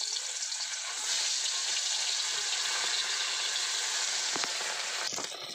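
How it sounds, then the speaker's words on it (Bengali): Dhela fish frying in hot oil, a loud, dense, continuous sizzle close by, with a few crackling pops near the end. "একেবারে ঢেলা মাছটাও ভেজে নেব।"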